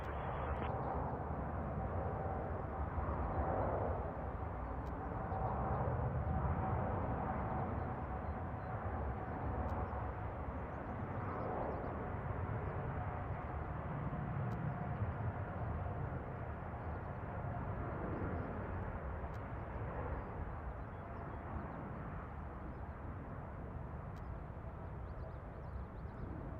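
An Airbus A321 on its takeoff roll in Toronto, a steady broadband jet roar that holds loud and constant throughout, with a faint tonal whine riding above the rumble and no voices.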